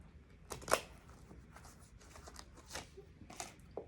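A tarot deck, a Cat Tarot alongside an oracle and a Rider-Waite deck, is shuffled by hand close up: soft, papery riffles and slides in uneven bursts with occasional sharper flicks.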